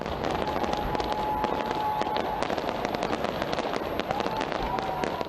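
Fireworks crackle and pop in a dense, continuous barrage at a New Year's Eve display in Auckland, loud and steady with sharp bangs throughout and a faint sustained tone threading through.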